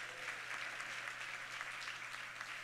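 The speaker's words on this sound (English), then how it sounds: "Let's give them all a round of applause." A crowd at an awards ceremony claps steadily in sustained applause, a dense patter of many hands with a faint low hum underneath.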